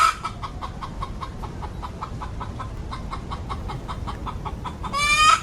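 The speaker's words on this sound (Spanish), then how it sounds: "para montar una granja de pollos" Chickens on a chicken farm cluck in a quick repeated rhythm over low background rumble, with a louder burst of squawking at the end.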